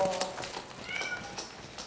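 A cat meows several times in short, high calls, fairly close, in a quiet room.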